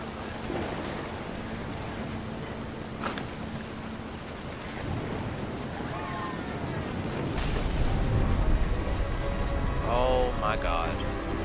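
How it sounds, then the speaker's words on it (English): Stormy ambience in the game What Remains of Edith Finch: steady rain with low rumbling thunder that swells louder in the second half, a speaking voice and faint tonal sounds drifting over the storm. "Thunder sounded much too close and full of angry power"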